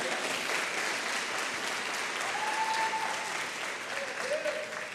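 A church congregation applauds steadily, the clapping dense and continuous at moderate volume, with faint voices and brief sung or called notes rising over it.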